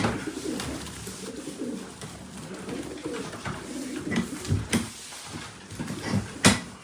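Pigeons coo repeatedly in a loft, soft throaty calls rising and falling under faint shuffling and background noise, with a couple of sharper knocks near the end.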